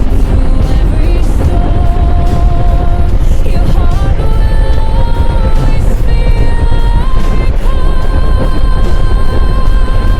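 A vehicle engine running along the Ternate-Nasugbu road, loud and close throughout, with a shifting tonal drone that rises and falls as it climbs and descends, and heavy wind rush mixed in.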